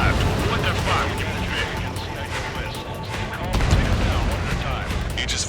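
Enemy ships' anti-air guns firing in Ace Combat 7, a dense crackling fusillade of rapid bursts and blasts under continuous radio-style talk, loud and steady throughout.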